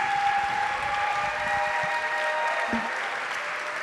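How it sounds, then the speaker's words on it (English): An audience gives a panel of speakers a round of applause, a steady wash of many hands clapping at even loudness throughout, with a faint tonal hum beneath it. "Let's give them a round of applause."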